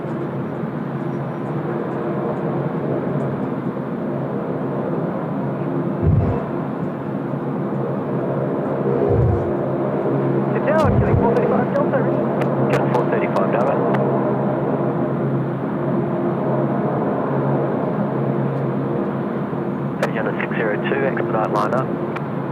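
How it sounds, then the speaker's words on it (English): A Hong Kong Airlines A330 arrives at Sydney Airport with a steady, broad jet rumble that holds throughout, while a person talks over it. "is the Hong Kong Airlines A330"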